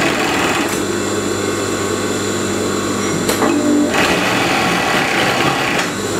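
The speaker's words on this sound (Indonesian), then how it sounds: "maka saya menggunakan mesin jahit. Kita obras ya, keliling." A sewing machine overcasts the edges of stretched fabric for long pants, giving a loud steady mechanical whir with a brief change in pitch midway and no talk.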